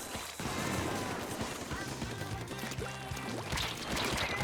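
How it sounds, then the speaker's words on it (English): Tenta Missiles firing in Splatoon 2, a rapid volley of popping launches and splashy bursts over a busy game backdrop, steady and dense throughout after a brief quiet start. "And there's Tenta missiles"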